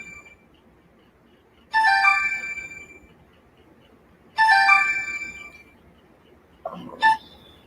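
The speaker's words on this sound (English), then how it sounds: "I got a phone call coming in here, but I'm gonna have to answer it later." An incoming phone call rings with a bright electronic ringtone, two identical melodic bursts a few seconds apart and a brief third snippet, fairly loud against a quiet room, with no talking.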